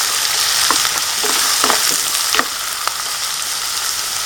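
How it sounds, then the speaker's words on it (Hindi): Chicken keema with ginger fries in a pan with a continuous loud sizzle, broken by a few sharp spoon knocks and stirring scrapes against the metal. "तो बस इसको फ्राई करना है 5 से 7 मिनट और इसको लिड से ढक देंगे"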